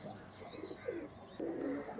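Salara pigeons coo softly nearby in a few short, throaty bursts, the last one longer and fuller, over faint background noise.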